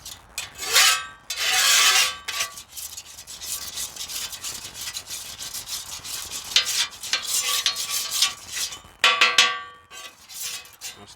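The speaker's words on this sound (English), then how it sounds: "Take our spatula and kind of smear it all around." A metal spatula scrapes and smears olive oil across a new Blackstone 17-inch portable griddle top, giving loud rasping strokes in bursts with short pauses between them and no talk.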